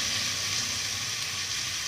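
Spices and a bay leaf frying in hot oil in a home kitchen, giving a steady, soft sizzle that holds close and even throughout with no voices.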